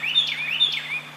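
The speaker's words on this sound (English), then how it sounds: "listening to the birds sing." A single bird sings a short, bright warbling phrase twice, clear and fairly close over a faint low hum.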